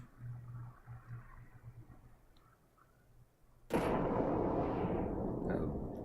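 Onion stinky bomb explodes in Final Fantasy XI: after a quiet stretch with a low hum, a sudden loud bang bursts out and trails into a sustained, hissing roar.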